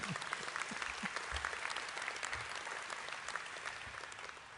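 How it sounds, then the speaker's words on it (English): An audience gives a sustained, dense round of applause at a hall of fame induction ceremony in 2015. The clapping is even and moderately distant, and a few voices are faintly audible beneath it. "let's have a good hand of applause for Tom."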